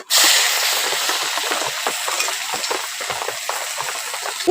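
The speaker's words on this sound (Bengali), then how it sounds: "টমেটো কুচি আর আদা বাটা একসঙ্গে একটু ভালো করে কষে নেব" Chopped tomato and ginger paste sizzle and crackle steadily in hot oil, a loud, close sauté with the occasional scrape of stirring and no voices.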